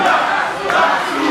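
A wrestling crowd in Staten Island roars and cheers for Diamante at a Warriors of Wrestling event, a loud, dense, sustained wall of voices filling the hall with no break.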